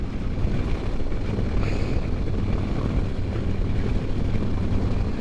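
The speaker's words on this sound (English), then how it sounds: "why is it always so windy here?" Steady, rumbling wind buffets the microphone throughout, a constant low roar with no voices.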